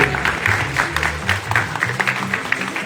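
Audience clapping and cheering for barbers competing in a timed barber battle, a loud, fairly close burst of applause with scattered voices and whoops mixed in.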